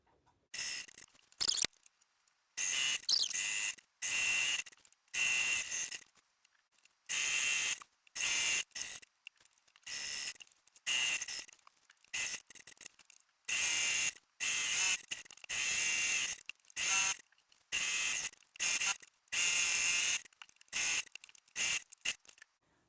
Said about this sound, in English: I will be stitching just about a 1/4 inch from the edge